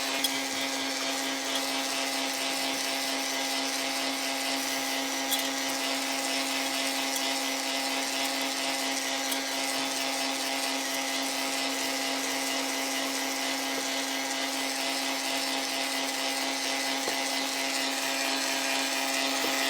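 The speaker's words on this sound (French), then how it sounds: "mélanger nos amandes et notre sucre glace" An electric mixer blends almonds with icing sugar for a dacquoise, running as a steady, close whirring motor hum with a constant tone and faint grinding texture and no talking.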